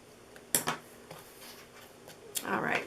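Paper being snipped with scissors while cutting a patriotic treat box, a few quick close crisp cuts with short pauses between them and a longer rustling stretch at the end.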